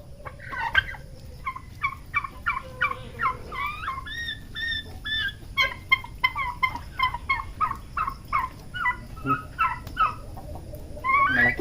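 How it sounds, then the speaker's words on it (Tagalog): Farm turkeys gobble in rapid rattling bursts, several birds calling close by and overlapping in quick repeated runs, with a low background rumble underneath and no talk. "Malaki talaga karne ng pabo na to mga lodi."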